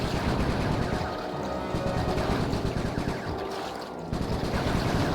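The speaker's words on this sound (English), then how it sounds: "I like this minigame a little bit more than the other shooting minigames" Sustained rapid gunfire from a mounted gun in a Sly 3 shooting minigame, a dense continuous barrage at steady loudness for the whole stretch with no voices.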